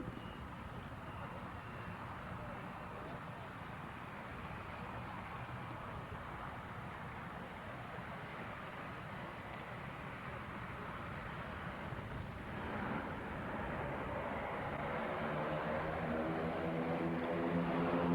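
An agricultural aircraft with a variable pitch propeller approaches to land at an air display, a steady distant engine drone that swells gradually louder toward the end, with no clear talk.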